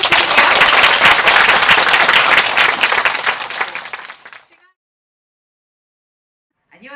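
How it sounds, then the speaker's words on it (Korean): Audience applause at a community mental-health event, loud dense clapping that holds for about four seconds and then fades out to silence, with a faint sound returning at the very end. "박수 한 번 더 부탁드릴게요"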